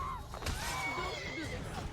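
A horse whinnies in the Assassin's Creed video game, a single shrill, wavering neigh close by, heard over faint background game noise.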